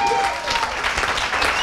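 A radio-salon audience claps steadily and densely as a Belgian radio columnist walks in, a continuous wash of applause with a faint voice underneath.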